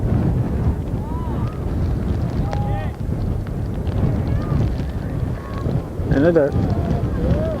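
Gusty wind buffets the microphone in a constant low rumble at a baseball game at Northeastern, with faint bird calls and distant voices scattered through the noise.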